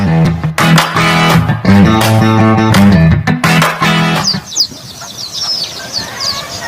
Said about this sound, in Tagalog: ito yung mga sisiw